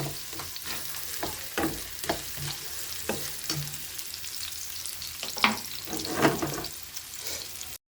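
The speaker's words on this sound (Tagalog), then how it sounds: "nilagay ko na yung giniling. Takpan muna natin." Ground meat fries in a pan for Filipino tortang giniling, a steady sizzle broken by repeated sharp scraping and stirring strokes, close and fairly loud, with no talking.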